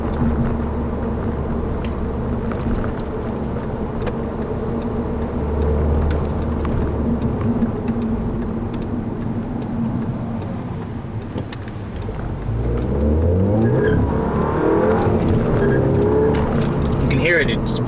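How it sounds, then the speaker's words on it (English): A 2010 Volkswagen GTI hums along steadily, then its engine note rises sharply as it accelerates hard through second gear, with a person talking over it. "It's pretty easy to chirp second in this car."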